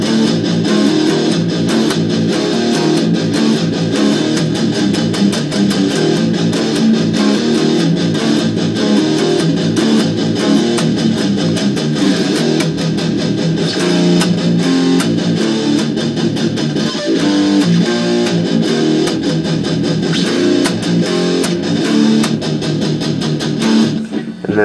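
Heavily distorted electric guitar plays a rhythm riff and palm-muted chorus part, a dense, loud chugging wall of sound running steadily throughout without talk.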